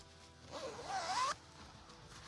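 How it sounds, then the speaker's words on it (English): A side zipper on a Lilly Pulitzer size 8 dress is drawn in a single smooth, rising zip lasting under a second, close and clear against a quiet room. "It does have a side zipper"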